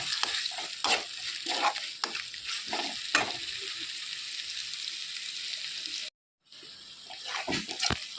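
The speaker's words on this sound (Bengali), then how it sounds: "এবারে দিয়ে দিচ্ছি টমেটো বাটা এবার মশলাটা ভালো করে কষিয়ে নেবো" Tomato paste and masala frying in a pan while being stirred, a steady sizzle broken by repeated scraping strokes of the spoon, with a brief moment of silence near the end before the stirring resumes; no one speaks.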